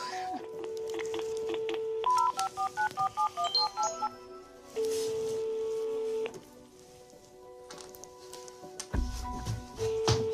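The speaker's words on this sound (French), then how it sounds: "Claire va composer le numéro qui lui fait tant peur" A telephone number being dialed in France, a quick run of about a dozen short keypad beeps at varying pitches, followed by steady tones that suggest a line ringing, fairly clear and close.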